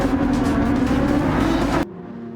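Nissan GT-R race car in Gran Turismo 7 at Interlagos, its engine droning loud and steady at high revs before cutting abruptly to a quieter, lower hum near the end.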